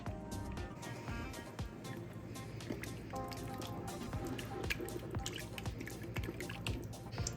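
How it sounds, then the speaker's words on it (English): Almond butter being stirred into coconut milk in a bowl, a steady run of soft wet squishing and dripping clicks up close with no talking. "I'm stirring in that almond butter until there's no big clumps of it."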